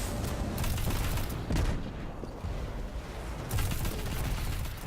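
Explosions and bursts of gunfire in a video game where technology breaks down under power fluctuations: loud, dense blasts fill the whole stretch, with a brief lull near the middle before another heavy burst.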